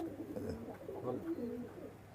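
Pakistani high flying pigeons coo close by in a low, throaty, rolling murmur. The coos overlap continuously against faint background noise.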